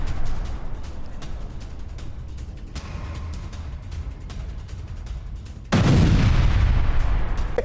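Explosions from a pinpoint missile strike in news footage: a continuous low rumble with rolling booms, then a sudden, much louder blast that swells near the end and stays heavy and loud.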